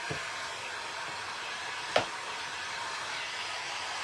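Hair dryer blowing steadily to dry a handmade DIY sign, a continuous close whooshing hiss with one brief click partway through, no talking.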